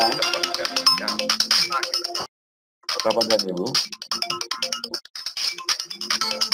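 A mobile phone ringtone repeatedly plays its melody during a seminar on vocational school revitalization, loud and steady with a brief gap, while someone speaks over it.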